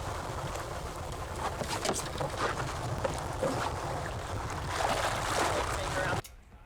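Motorboat engines drone and churn over water as several boats circle while tarpon fishing, wind buffeting the microphone, the rush swelling near the end before cutting off abruptly.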